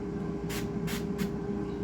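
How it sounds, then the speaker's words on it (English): Three short bursts from a food oil spray can over breaded food before it goes into an air fryer, each a quick hiss about half a second apart against a steady low hum. "Spray one side, roll them over a little bit, and then spray the other side."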